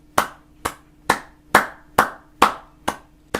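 Single pair of hands clapping slowly and deliberately, eight sharp claps in a steady rhythm about half a second apart, close and dry with no other sound between them.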